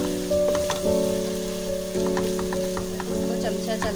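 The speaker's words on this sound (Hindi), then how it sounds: "तो अच्छे से 5 मिनट तक भूनेंगे, और चमचा सरसर हम चलाते रहेंगे" Ginger-garlic paste for a beef paya sizzles in a pan while a spoon stirs it, giving a steady fry with scattered light scraping clicks under a faint tonal hum.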